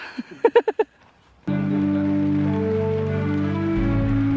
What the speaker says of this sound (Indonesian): Hujan mulai turun saat kami sampai di Pengkolan 9.